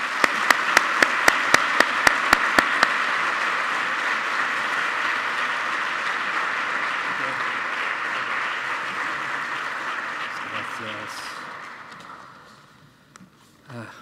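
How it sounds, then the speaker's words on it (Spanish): Ceremony audience at an Erasmus programme anniversary event applauds, opening with a rhythmic run of unison claps before settling into sustained, dense clapping that gradually fades out, with a few stray sounds at the close. "Un aplauso para ellos, por favor."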